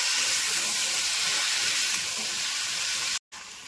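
Papaya and drumstick pieces sizzle steadily in hot mustard oil with a radhuni spice tempering, a close, even frying hiss that drops out briefly near the end.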